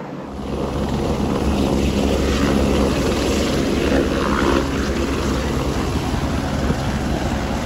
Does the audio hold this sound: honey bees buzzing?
no